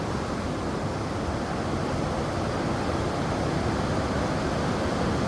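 Floodwater rushes through a rainforest during a flash flood, a loud, continuous, broadband roar that holds steady without any talking.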